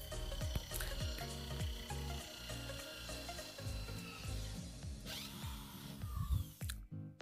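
A power drill with a one-inch bit bores a hole in the side of a thick-walled plastic jerry can, a repeated whining, grinding bite of the bit into plastic in short bursts, with no voices.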